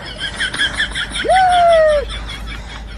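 A single human voice mimics a rooster's crow, a drawn-out wavering call lasting under a second, close and fairly loud after some brief background noise.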